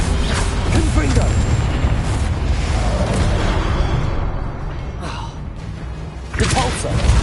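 Confringo fire spell blasts in Hogwarts Legacy, with heavy booming impacts and rumbling bursts in a loud, dense combat mix, and a fresh thump near the end.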